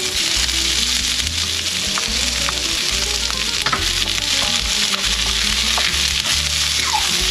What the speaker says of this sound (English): we'll saute some ginger, onions in